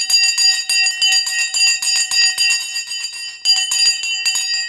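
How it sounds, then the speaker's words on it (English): An electric bell rings loudly and continuously to start a stock race, a rapid metallic rattling clang with a brief break before resuming. "let's ring the bell"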